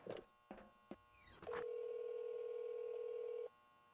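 Telephone dialing to call a supply company: a few short clicks and tones, then a single steady electronic tone held for about two seconds before stopping, all quiet and close.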